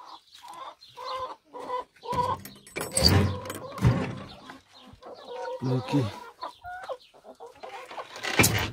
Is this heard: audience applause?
no